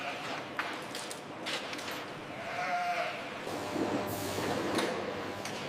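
A sheep bleats at mid distance inside an automated meat processing factory, over a dull, steady background hum, with scattered clatter and no talking.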